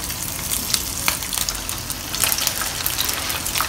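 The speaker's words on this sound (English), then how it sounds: "Don't overcrowd the pan or wok, otherwise the temperature of the oil will go down drastically and your pork ribs will soak up a lot of oil." Pork ribs deep-frying in hot oil in a wok, a dense, loud, continuous sizzle with sharp crackles and pops scattered throughout.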